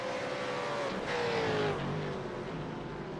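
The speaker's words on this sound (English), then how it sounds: "just turn the car noise down" A V8 Supercar race car engine at Suzuka circuit drones and shifts pitch, a continuous mid-distance roar that swells briefly and then eases slightly.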